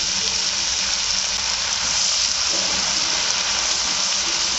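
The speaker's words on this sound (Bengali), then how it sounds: "ঘি দিলাম, ঘিটা গরম হোক। রসুন কুচি দিয়ে দিলাম আর আদা কুচি।" Minced garlic and ginger hit hot ghee in a kadai, giving a steady, close hiss of frying with a watery, crackling wash that holds evenly throughout.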